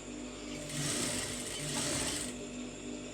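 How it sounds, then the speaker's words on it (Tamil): A sewing machine runs one steady burst while stitching piping onto a sleeve, a close continuous whirring hum that swells and fades. "இதை இதை வச்சு கரெக்டாக உள்ளார வந்து ஒரு தையல் போட்டுருங்க"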